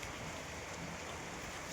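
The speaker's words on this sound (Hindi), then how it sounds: "बर्फ़ के गोले गिर रहे हैं, बर्फ़ के गोले मतलब ओले गिर रहे हैं गाइस" Hail falls outdoors in a steady, dense patter of small ice pellets striking surfaces, a continuous broadband hiss with no gaps and no voices.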